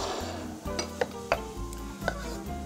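Finely chopped chili going into a pan for a stir-fry, a soft sizzle under a few distinct scraping and clinking stirring strokes, close and fairly quiet, with no talking.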